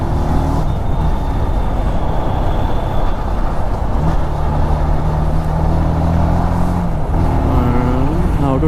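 A Benelli TNT motorcycle rides through traffic at the Balanagar Y junction in Hyderabad, its engine a loud, close, continuous drone mixed with the rumble of surrounding vehicles and a rising horn-like tone near the end.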